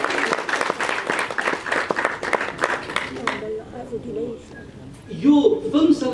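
Enthusiastic applause from an audience at the opening of a Nepali film celebration event, dense clapping for about three seconds before fading into quieter crowd noise and voices.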